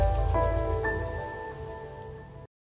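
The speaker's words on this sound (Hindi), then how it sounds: "अभी यहाँ पे बारिश हो रहा है और ये पूरा बारिश में भीग रही है।" Steady rain falls outdoors, a soft, continuous hiss at moderate level that fades gradually over a couple of seconds before cutting out abruptly.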